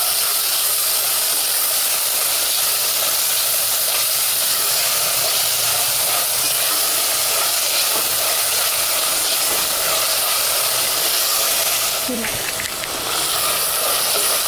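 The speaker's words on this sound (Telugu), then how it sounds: "ఇది పచ్చివాసన పోయేంత వరకు అల్లం వెల్లుల్లి పేస్ట్ వేగింది" Ginger garlic paste and onions fry in a pan for Hyderabadi-style bagara rice, giving a loud, steady hiss and sizzle close by with faint clattering underneath.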